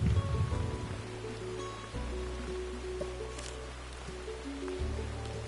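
Steady pouring rain in a horror video game, a dense even hiss with low rumbling ambience underneath, no voices.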